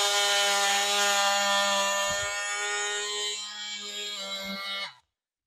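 A DeWalt power saw cuts through a large dahlia tuber clump with a loud, steady high-pitched whine that runs for about five seconds, dips and strains partway through, then stops abruptly.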